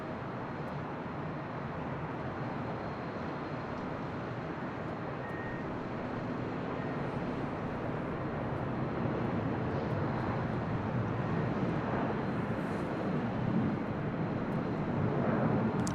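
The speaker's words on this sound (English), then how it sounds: "This is Delta Airlines Flight 2647 heading back to Detroit, Michigan in this A321-200" A Delta Airlines Airbus A321-200 jet airliner at LAX, heard as a steady, distant jet-engine rumble that builds slightly toward the end, with no voices.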